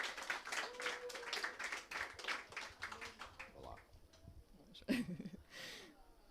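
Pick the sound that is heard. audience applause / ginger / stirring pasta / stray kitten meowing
audience applause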